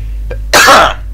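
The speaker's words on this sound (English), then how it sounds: "hold on, sneezing" A single sharp sneeze bursts out close to the microphone, loud and brief, with a faint intake just before it.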